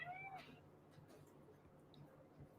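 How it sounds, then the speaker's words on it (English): A pet cat gives one short rising meow, close but quiet, followed by a faint low hum of room noise. "My cats are starting to harass me."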